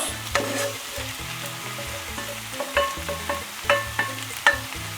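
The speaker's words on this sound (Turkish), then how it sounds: "Bu şekilde biraz daha kavurmaya devam ediyoruz." Mushrooms sauté in a pan with softened vegetables for a chicken dish with béchamel sauce, giving a soft, steady sizzle broken by a few light scraping clicks of stirring, close up and with no talking.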